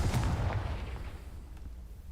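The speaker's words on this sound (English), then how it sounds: "Confringo!" Confringo, a fire spell in Hogwarts Legacy, blasts spiders in a cellar, giving a loud booming explosion that fades out over about two seconds, with no talking.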